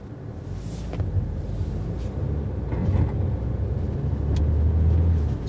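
A 2019 Mercedes A-Class accelerating through a snowstorm in traffic, heard from inside the cabin: a steady low engine and road rumble that swells gently as it speeds up, continuous and without talking.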